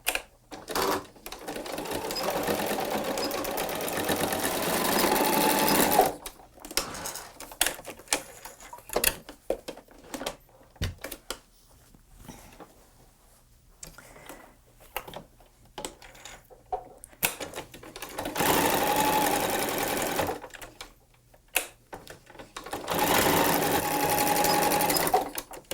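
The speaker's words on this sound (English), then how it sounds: "let's take that to the sewing machine" A sewing machine stitches through a bulky fabric market tote layered with fusible fleece, running in three long loud bursts separated by quiet stretches filled with light handling clicks and rustles.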